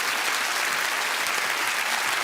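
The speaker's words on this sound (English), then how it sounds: "Big round of applause for Chris Davies." Studio audience applause for a contestant on a family game show, steady and dense throughout with no talk over it.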